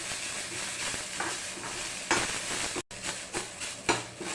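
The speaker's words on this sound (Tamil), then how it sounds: "ஆனியன் நல்லா ஃப்ரை ஆகட்டும்." Onions frying in a little oil with curry leaves, cumin and crushed garlic, a continuous close sizzle broken by a few stirring scrapes and one brief dropout, no speech.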